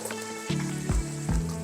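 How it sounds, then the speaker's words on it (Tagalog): Thick coconut jam bubbles in a pan, with three soft plopping bursts over a steady low sizzle, close up. "Palatandaan po nito na luto na ay yung nagmamatang kalabaw na po siya, yung kumukulo po siya ng malaki."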